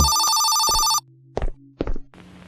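A telephone rings loudly and shrilly in a Korean horror video game, a steady electronic bell lasting about a second, then stops. A few dull thuds and soft scuffs follow, with no talking.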